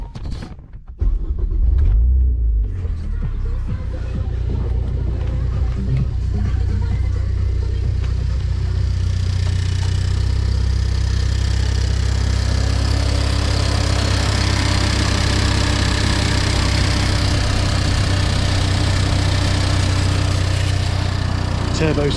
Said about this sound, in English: Turbo spinning.